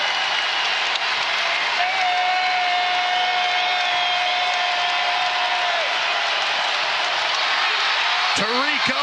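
Loud, sustained roar of a basketball arena crowd cheering and applauding at a Kansas State vs Texas Tech college game, dense and continuous with a whistle tone in the middle, and a voice breaking in near the end.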